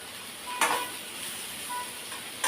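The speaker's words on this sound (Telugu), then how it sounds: "మధ్య మధ్యలో మనం కలబెట్టుకుంటా ఉండాలా మాడిపోకుండా చూసుకొని కొంచెం కలబెట్టుకుంటా ఉండండి" A pan sizzles steadily while a spatula stirs through frying ivy gourd, giving a couple of sharper scraping strokes.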